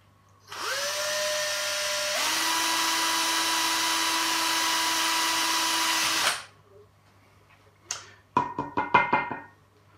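A power drill whines steadily as it bores a 2mm hole into a brass trumpet mouthpiece, the pitch shifting once under load, then stops, followed by a series of sharp metallic clicks and taps.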